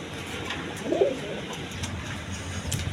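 A pet pigeon gives a single soft, low coo in the middle of a short quiet stretch, with faint background noise around it.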